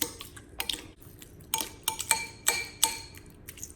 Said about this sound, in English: stir it for 30 seconds with this metal spoon that we have